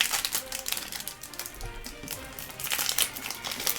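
A foil trading card booster pack from an Explosion de la Destinée display crinkles and tears open close by, a run of sharp crackling rustles in quick bursts.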